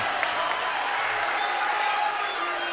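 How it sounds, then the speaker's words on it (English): A lively high school basketball crowd in Waterloo cheers and applauds in a steady, dense wash of noise, with a voice talking faintly underneath. "the crowd is lively tonight here in Waterloo"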